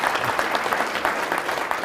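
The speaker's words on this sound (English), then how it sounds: "You can applaud for him." Audience applause for Dr. Norm Gevitz at an anniversary celebration, a steady, moderately sized round of clapping from a room full of people, brief and even throughout.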